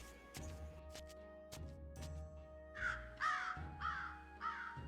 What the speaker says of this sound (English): So one can even hear the crows here.